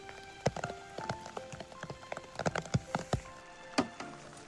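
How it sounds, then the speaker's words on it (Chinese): Rain patters steadily on nearby surfaces on a mountain trail during wet-weather wild mushroom foraging, with irregular close droplet taps and soft splashes and no talking. "下那么大雨还出来"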